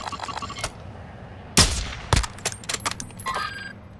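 Turret gunfire in a video game rings out in sharp, loud bursts, a heavy blast followed by a quick double shot and a rattling string of smaller cracks, with no talk over it.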